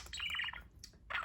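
A pet budgie chirps while eating, giving a quick run of soft, close tweets and small clicks, a brief pause, then another short burst of chatter.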